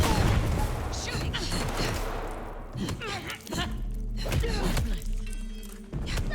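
Gunfire in Vampire the Masquerade Bloodlines 2, a run of loud, sharp shots and heavy thuds spaced irregularly over several seconds, with a voice speaking between bursts.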